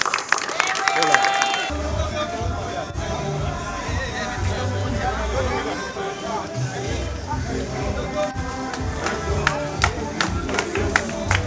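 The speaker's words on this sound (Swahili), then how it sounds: "Hongereni sana, makofi kwa wingi." Crowd clapping at a hotel foundation stone ceremony held during the 2025 Uhuru Torch race visit, a fairly loud, steady patter of applause mixed with crowd hubbub and voices talking throughout.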